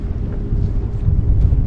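Strong wind gusting over open water during a bass fishing trip on a Pelican Bass Raider boat, a steady low rumbling buffet on the microphone that swells louder toward the end.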